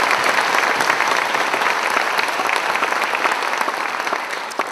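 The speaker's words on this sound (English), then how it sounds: "Can we give these guys one round of applause for all the practice that they do?" Sustained applause from the audience at a school spring concert, dense steady clapping that fills the room for several seconds at a strong, even level with no voices over it.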